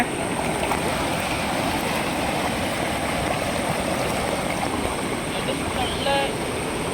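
Fast-flowing water rushes at Perunchilambu Falls in Kanyakumari, a loud, steady, broadband roar that stays even throughout, with a faint brief tone near the end.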